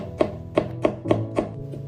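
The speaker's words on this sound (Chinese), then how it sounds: "首先把大蒜切成薄片" A knife cuts peeled garlic into thin slices on a cutting board. Five crisp chops land in an even rhythm, close and clear, with nothing else heard.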